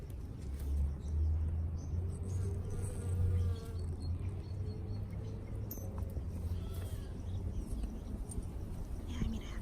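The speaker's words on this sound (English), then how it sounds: "There's the bees buzzing." Bees buzzing in a vegetable garden with kale and peas, a steady low droning hum close by that swells and fades under faint background noise.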